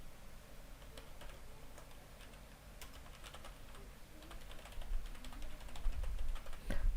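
An email address is typed on a computer keyboard: a quiet, steady run of irregular key clicks with no talking.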